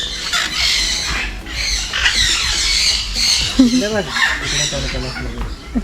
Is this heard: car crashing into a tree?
no